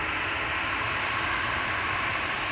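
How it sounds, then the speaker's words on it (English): An Airbus A380 takes off from runway 24 at Amsterdam Schiphol Airport on a Dubai to New York flight, its engines a loud, steady, broadband roar that holds even throughout. "And that was the A380 Dubai to New York, Dennis says."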